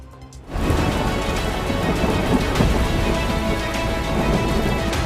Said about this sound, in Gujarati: સૌરાષ્ટ્રના અનેક જિલ્લામાં ભારે વરસાદ ખાબક્યો છે